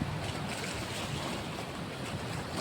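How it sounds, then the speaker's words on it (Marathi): Water pours over the gates of the Jayakwadi dam on the Godavari, released at 36,000 cusecs after the reservoir reached 99 percent, making a loud, steady, unbroken roar of rushing water with no voices. "धरणाच्या या गेटच्या वरतून आपण पाणी पडताना बघता आहात."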